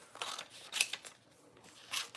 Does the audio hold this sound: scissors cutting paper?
yes